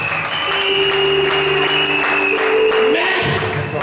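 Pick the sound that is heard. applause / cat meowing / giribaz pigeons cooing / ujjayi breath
applause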